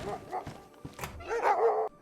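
Dogs bark and yelp in quick, close bursts in the survival video game DayZ, with several sharp barks over about two seconds.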